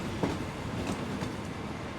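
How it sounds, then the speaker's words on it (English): A train runs on tracks, heard over a phone in a film: a continuous muffled rumble with faint rhythmic clicks, steady and moderately loud. "I know you know it's a train."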